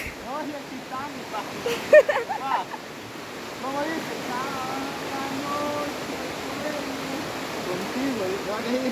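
A river swollen after heavy rains rushes steadily into a pool, a continuous broadband wash of water running throughout while people talk nearby.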